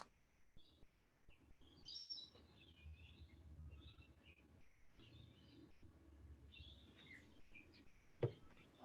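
Birds chirp outdoors in faint, scattered tweets and short calls over a quiet background, with a few brief louder notes spread through the stretch and no talking.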